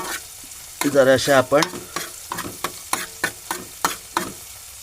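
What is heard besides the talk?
sautéing chillies with cluster bean and pumpkin vegetable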